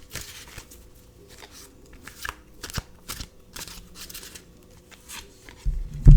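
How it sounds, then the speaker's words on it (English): Tarot cards are shuffled repeatedly by hand, a quick series of riffling, flicking bursts with short pauses between, close and fairly loud. "So shuffle, shuffle, shuffle."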